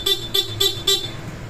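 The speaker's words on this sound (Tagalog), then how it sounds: "May busina ba yan?" A vehicle horn sounds four short, evenly spaced honks, each sharp and close, over a low idling rumble.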